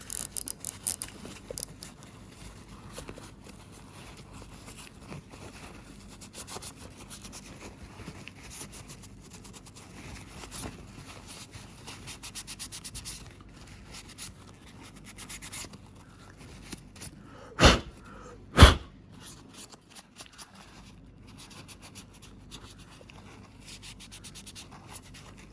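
A paper kitchen towel wiping old sandy grease off a fishing reel, soft close rubbing and scrubbing strokes throughout at low level, with a couple of louder brief knocks near the end.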